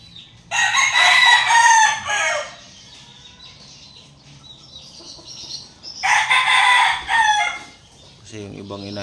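Hens and a rooster penned together in a 4x4 enclosure: two loud, close bursts of crowing and clucking with quieter fowl calls in between, and someone talking faintly in the background.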